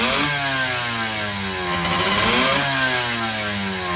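A loud IZh Sh-12 racing motorcycle engine from the 1970s–80s revs up and down, its pitch rising and falling in sweeping surges, close by and continuous.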